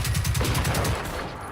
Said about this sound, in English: God bless this burst fire.